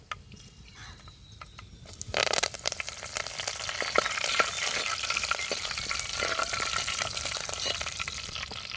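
Fenugreek seeds frying in hot oil for a village crab curry, a loud close sizzle that jumps up after a softer start and keeps crackling steadily, alone without voices.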